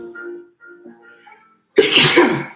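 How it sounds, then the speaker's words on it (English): A single loud, explosive sneeze bursts out after a few quiet, breathy sounds that lead up to it. "I gotta sneeze."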